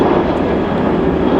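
A Southwest Airlines jet passes overhead near Playa del Rey, Los Angeles, a loud steady engine roar that stays constant throughout with no voices.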